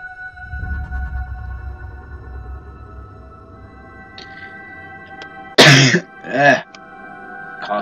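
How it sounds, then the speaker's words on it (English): Two sharp, loud coughs or throat clears ring out close to the mic after a stretch of quiet game music, following faint low rumbling earlier on. "Cough's killing me."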